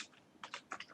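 Quiet typing on a computer keyboard, a few soft irregular clicks in a brief burst.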